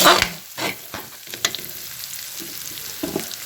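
Food is sautéed in a pan: a close sizzle broken by scraping stirring strokes in uneven bursts, with no talking.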